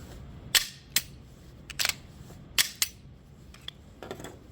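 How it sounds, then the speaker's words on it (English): Dry-fired pistol trigger clicks, a handful of short, sharp mechanical snaps spaced unevenly, some in quick pairs, close and fairly quiet in a still room. "never have I been able to break a pistol by dry firing it"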